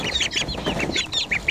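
Baby chicks and a duck being fed berries, worms, herbs, crushed cereal and oatmeal, making a quick series of short, close chirps and clucks.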